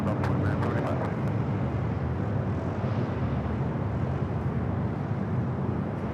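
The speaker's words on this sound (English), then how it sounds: "The Delta A319 coming up from Poland" A Delta Airbus A319 arriving at LAX from Poland makes a steady, fairly loud engine rumble throughout, with a few short sharp clicks at the start.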